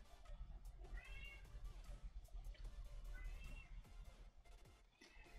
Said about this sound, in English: my cat is hungry. I don't know if you can hear him meowing.